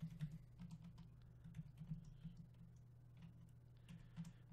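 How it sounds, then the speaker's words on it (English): Keys on a computer keyboard tapped in a steady run of quick, soft clicks while Hebrew text is entered on a Windows PC, close and fairly quiet over a low background hum, with no voices. "you can now begin typing"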